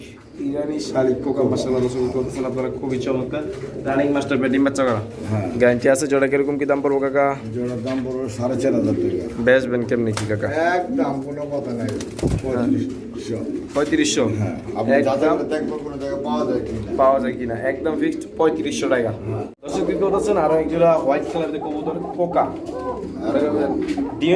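Irani Shalik pigeons coo at a pigeon farm, with repeated throaty rolling calls close by that overlap continuously while someone talks over them.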